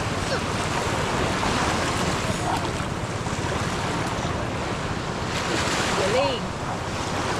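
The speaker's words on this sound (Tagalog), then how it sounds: "Ang ganda ng dagat, oh." Sea waves wash steadily onto a shallow, clear-water shore, a continuous broad rush of surf mixed with wind buffeting the microphone, with no talk over it.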